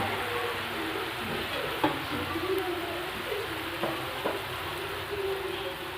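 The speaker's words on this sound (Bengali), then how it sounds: "ঝোলটা আমার ফুটে উঠেছে" A pan of Bengali silver carp kalia broth seasoned with salt and turmeric simmers with a steady low sizzling bubble, a few soft clinks standing out over the even, close-up cooking noise.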